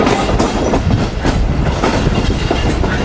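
A Pak Business Express passenger train runs loud and close over a track switch, its wheels clattering in a dense, rhythmic clickety-clack beneath a steady rumbling roar.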